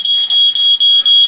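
Smoke alarm inside a tent sounds a rapid series of shrill, piercing beeps, loud and close, repeating about five times in just over a second with no talking.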